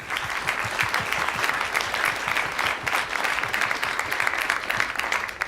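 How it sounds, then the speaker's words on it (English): Conference audience at an Asteroid Initiative industry and partner day gives sustained applause, a dense, steady clatter of many hands lasting the whole stretch with no talking. "Let's give him a round of applause."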